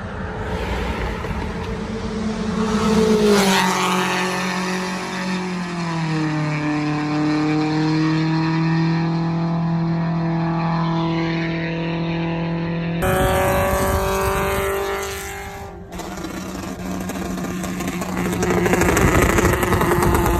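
A car engine revs hard and long, its pitch climbing, holding and falling through several sweeps, with crackling exhaust pops and bangs on the throttle, loud and close.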